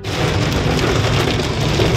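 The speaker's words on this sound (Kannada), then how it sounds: "ಸಖತ್ ಬಾರಿಸ್ತಾ ಇದೆ ಮಳೆ." Heavy rain pours down steadily and loudly, a dense continuous roar of drops close by with no voices, heard while travelling on a flooded road.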